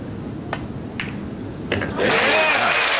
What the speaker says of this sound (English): a nice round of applause from the enthusiastic crowd